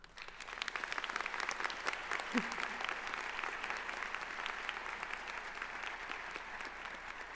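Sustained applause from a large audience at a school graduation ceremony, many hands clapping steadily and evenly throughout with no pauses.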